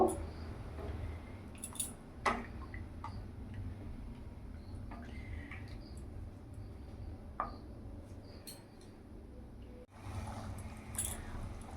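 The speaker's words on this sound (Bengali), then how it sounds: "ভালো করে নাড়াচাড়া করে নেব" Prawn malai curry with golda chingri is stirred in a pan over a gas flame, giving faint intermittent clinks and scrapes of a utensil against metal over a low steady hiss.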